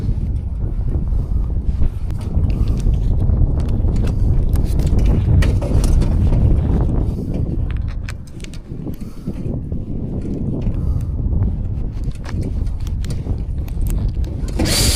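Soot and debris rattle and rustle steadily down inside a chimney during sweeping, a dense, gritty, continuous rushing that eases briefly midway and then picks up again.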